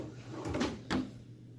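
A drawer in a hotel room slides and bumps twice in quick succession, soft and fairly close in a quiet room.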